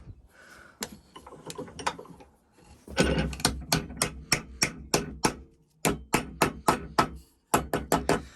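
A wooden dovetail joint is knocked together with a hammer: a few scattered taps, then steady rhythmic blows in quick bursts, each a sharp close knock, with short pauses between runs.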